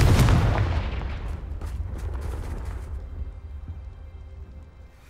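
A Confringo fire spell blast from the game Hogwarts Legacy, one heavy booming burst at the start that rolls off into a long fading rumble.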